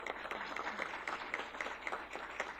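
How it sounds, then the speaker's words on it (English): An audience at a college board of regents meeting claps steadily in a soft, evenly spread round of applause that fills the room without a break. "let's give a round of applause"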